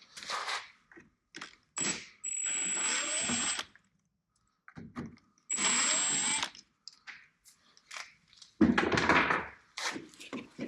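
Power screwdriver removing Torx T20 screws from a car's taillight, two whirring bursts of about two seconds each followed by a rougher clattering whirr, close, with short handling knocks and clicks between.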